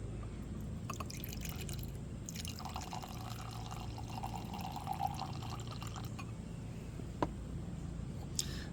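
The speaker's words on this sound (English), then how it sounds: "you can just pour it directly in your glass and enjoy" Homemade strawberry honey mead is poured into a glass, a soft trickling and dripping of liquid close by, quiet overall, with a few sharper clinks or drops near the end.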